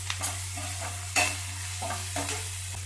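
Spices and onions are stirred together in a pan for bottle gourd palya, with soft oily sizzle under a handful of spaced scraping strokes of a spoon against the pan, a steady low hum behind.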